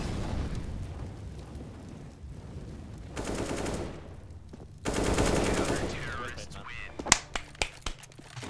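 Gunfire in the video game CS:GO: rapid automatic bursts and loud shots on the Mirage map, with dense rattling volleys in two longer stretches, then a few sharp single cracks near the end.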